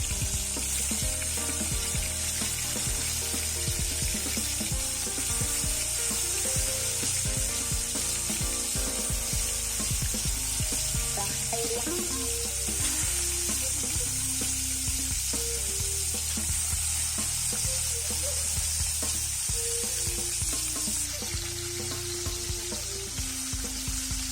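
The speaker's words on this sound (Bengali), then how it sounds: "তেলটা গরম হয়ে গেছে, এবার একে একে মাছগুলো দিয়ে আমি ভেজে নেব ভালো করে" Snakehead fish frying in hot oil, a loud continuous sizzle and crackle that holds steady throughout, with occasional scraping and stirring noises close by.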